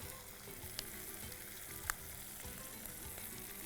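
Sautéed onions and tomatoes frying for a gravy base, a steady hissing sizzle with light mixing scrapes and a couple of brief clicks, heard up close without voices.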